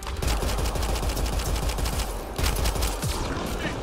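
Repeated rapid gunfire in the sci-fi shooter Mass Effect Andromeda, close and loud bursts of automatic shots hammering steadily for several seconds with a brief lull partway through.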